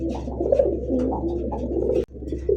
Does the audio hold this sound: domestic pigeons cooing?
yes